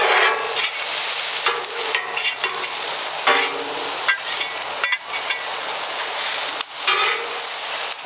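Beef steak sizzles and fries on a Blackstone flattop griddle, a dense, loud hiss with repeated scraping and clanking of a spatula as the meat is stirred and pushed around the hot surface.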